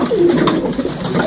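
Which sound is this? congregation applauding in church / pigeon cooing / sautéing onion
pigeon cooing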